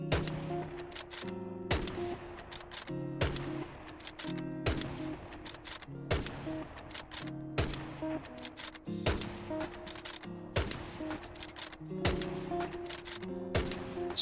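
Repeated SMLE bolt-action rifle shots in Hell Let Loose, sharp cracks spaced about every second or two across the stretch, each followed by a brief metallic clatter and layered with distant battlefield gunfire.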